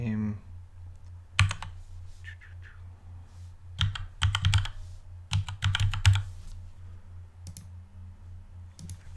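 A username being typed on a computer keyboard, with scattered bursts of crisp key clicks in quick runs separated by pauses, set against a low background hum.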